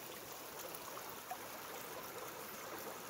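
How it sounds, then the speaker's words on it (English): Water pours steadily from a small karst spring flowing out of a cave in Logan Canyon, a continuous soft rushing and trickling that stays faint and even throughout, with no voices. "That's quite a bit of water coming out of that little spring."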